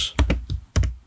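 Brief close keyboard typing, a few sharp key clicks in two quick clusters while entering a short label.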